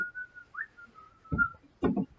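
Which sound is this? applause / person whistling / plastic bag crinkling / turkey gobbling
person whistling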